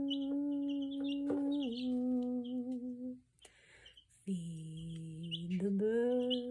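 A baby Easter Egger chick peeps in short, high chirps that come and go over a person singing a sustained melody close by.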